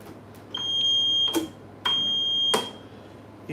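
A smoke-alarm-style alarm beeps indoors, giving two sustained piercing tones about a second long, each ending with a clack, separated by a short pause.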